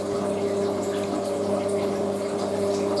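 A Hotpoint WM63 washing machine fills with water for its rinse: a steady hum with tonal pump whine and rushing water, constant and close, with no talk over it.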